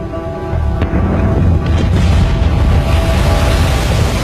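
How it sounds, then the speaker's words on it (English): Volcanic eruption of Krakatau, deep rumbling booms rolling into a sustained loud roar that builds after the first half second and holds steady, with no voices. "A series of booms could be heard hundreds of miles away."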